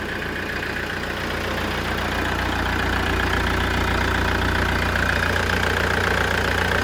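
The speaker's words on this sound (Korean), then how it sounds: "팬도 다 돌고 있고요" A car engine idles steadily with cooling fans whirring continuously after dual air-conditioning refrigerant charging of 800 g; a loud, constant broadband hum with no talk.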